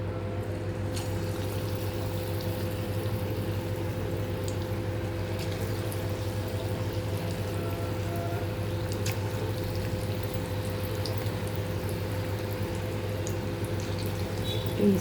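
Marinated chicken pieces frying in hot oil in a kadai, a steady dense sizzle and bubbling that holds evenly throughout, close and continuous with no talk.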